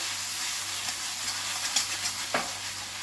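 Mixed vegetables stir-fry for veg noodles in a hot pan, with a steady loud sizzle and hiss. Occasional scraping taps from a spatula come through, and no one talks.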